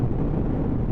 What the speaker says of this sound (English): My sweater's flapping.